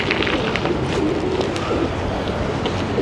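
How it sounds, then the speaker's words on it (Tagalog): Pigeons coo in a German town square amid steady outdoor hubbub, the soft low calls faint under broad ambient noise. "Dami kalapati guys"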